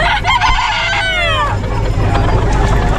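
Chickens cluck and a rooster crows nearby at a pet market in Bocaue, over a constant low rumble of background noise.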